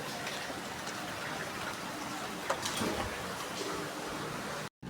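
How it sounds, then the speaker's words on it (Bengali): Heavy rain pours steadily outside a house, a soft continuous hiss of drops with a brief louder patter midway and a sudden cut just before the end. "প্রচণ্ড হারে বৃষ্টি হচ্ছে"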